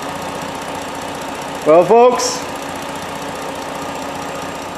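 A Herbie car fitted with a swapped Ford 3.7 Duratec engine idles steadily at close range, a low continuous rumble running throughout, with a brief spoken exchange and laughter breaking in partway.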